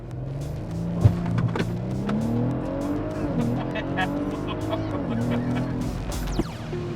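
Tires of a tuned Audi SQ5 spinning and squealing under hard acceleration, a loud sustained engine roar with rising pitch and a sharp squeal, with faint voices in the background.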